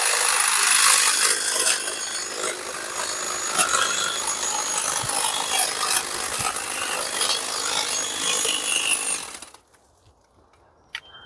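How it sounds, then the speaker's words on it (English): A Makita DUN461W cordless pole hedge trimmer cuts through a garden hedge with a steady buzzing, crackling chatter of blades biting twigs. It is close and continuous for about nine seconds, then cuts off into near silence. "So now I'm just going to trim part of this hedge here."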